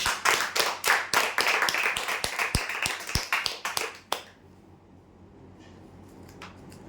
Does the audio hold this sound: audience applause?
yes